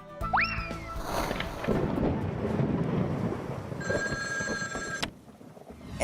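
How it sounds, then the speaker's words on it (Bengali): In the animated series Nut Boltu, a telephone rings briefly after a springy boing and a rumbling noise, the electronic ring rising near the end before cutting off, with no voices. "যাই, বল্টুকে ফোন করে ডাকি।"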